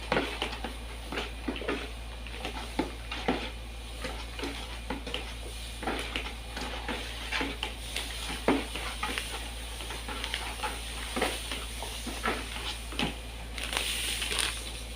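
A homemade dishwashing liquid mixture is stirred round and round, giving soft, uneven scraping and sloshing strokes over a low steady hum. The strokes are fairly quiet and close, with no talk.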